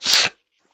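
A single sharp, loud sneeze, bursting out and cutting off within a third of a second, followed by silence.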